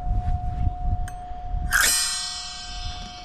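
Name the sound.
bell tree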